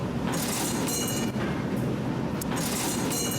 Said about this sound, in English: Let's go down into the subway station where you hear the strangest things.